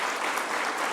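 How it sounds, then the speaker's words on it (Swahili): Brief, dense burst of applause for a football coach at a State House reception in Kenya, many hands clapping together, full and unbroken. "Coach Cheche, tumpigie makofi huyo"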